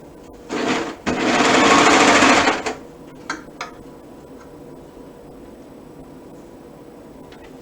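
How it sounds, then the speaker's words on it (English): A sewing machine stitches fabric in the round, running in a short burst and then a longer steady loud run, followed by a few faint clicks and taps as it stops. "I'm just going to sew these in the round."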